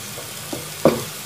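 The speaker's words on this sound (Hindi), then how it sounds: "अब इसमें हम प्याज डालेंगे, इसको चलाएंगे हम," Chopped onions sizzle gently in a frying pan while being stirred, a soft steady hiss with a couple of brief scraping clicks from the spoon.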